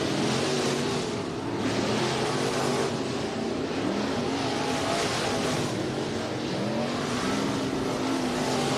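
Race cars at Southern Oregon Speedway in Medford, with several engines roaring steadily at a distance and pitches rising and falling as the pack circles the track.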